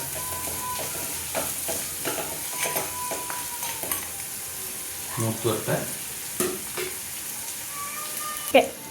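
Masala with salt fries in a pan for a Kerala-style dried fish curry, giving a steady sizzle broken by scraping stirs and clinks of the spoon, close by, with a sharper knock near the end.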